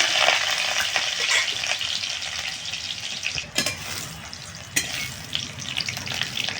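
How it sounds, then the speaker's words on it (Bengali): Steady crackling sizzle of garlic frying in hot mustard oil, continuous and close, with a couple of brief sharper clatters partway through. "তেলটা গরম হয়ে গেছে একদমই একটু রসুনটা হালকা ভেজে নেবো একটুখানি"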